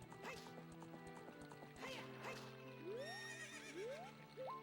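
Epona the horse whinnies in Zelda: Ocarina of Time, several shrill, rising neighs over game sounds and music, clear and close, with faint hoofbeats nearby.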